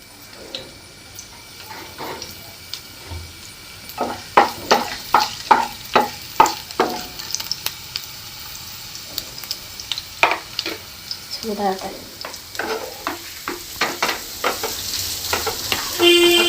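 Onion and green chili are stir-fried in a pan with a low sizzle under repeated sharp scraping strokes of the spatula. The strokes come in quick rhythmic bursts and the stirring is close and clear.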